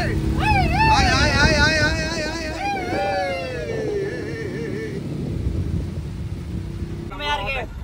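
A boat cruises on the Kerala backwaters with a continuous low engine drone and water rush, while voices ring out over it for much of the time before fading to the steady hum.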